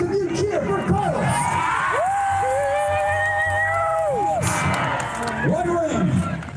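A Renaissance faire crowd cheers for Carlos at a jousting-style ring contest, a sustained roar of voices and whoops with drawn-out shouts rising and falling, loud and close throughout.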